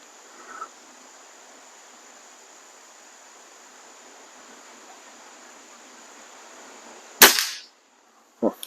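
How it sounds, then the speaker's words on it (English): A Weihrauch HW35E air rifle fires a single sharp, loud crack after a long quiet stretch, followed by a brief second impact-like snap. "let's take a shot at that top right bullseye"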